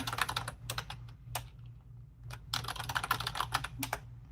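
Bursts of rapid clicking keystrokes on a computer keyboard, close and clear, coming in quick runs with brief pauses between them over a steady low hum; no talking.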